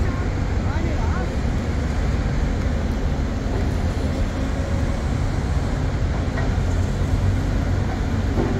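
A train rumbles steadily through switching moves, a continuous broad roar and rattle of railcars at a rail yard, loud and unbroken for several seconds with no distinct voices.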